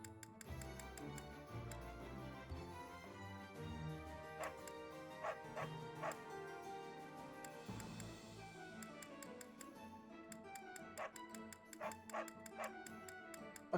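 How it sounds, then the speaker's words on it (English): A dog in the Fire Emblem: Three Houses video game barks in short, repeated yips over soft game music with ticking sounds, fairly faint. "Hush dog."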